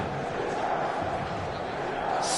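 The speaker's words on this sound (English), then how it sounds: "a sea of team colours, songs ringing down from the stands" A passionate stadium crowd in a football video game sings and roars at an evening match, a broad steady wash of many voices heard over a commentator's talk.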